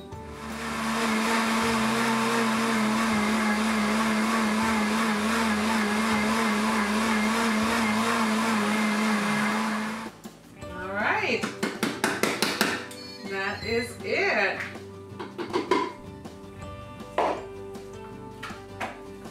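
A kitchen blender grinds sugar and cornstarch into powdered sugar, a loud steady whirring motor running for about ten seconds before cutting off, followed by clinks and handling noises of the jar and lid.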